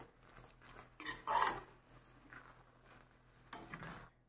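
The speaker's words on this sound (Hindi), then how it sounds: "धनिया डालकर इसको अच्छे से चलाएंगे" A spoon stirs bean and potato curry with fresh coriander in a pan, giving soft scraping and rubbing strokes, loudest in one short burst, then quieter stirring near the end, close by and with no talking.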